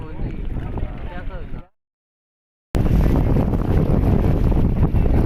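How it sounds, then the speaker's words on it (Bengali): Loud, rushing wind buffets the microphone as a boat moves along a village river, broken by a brief silent gap; voices talk over it at first. "নৌকা এখন চলতেছে আর প্রচুর বাতাস"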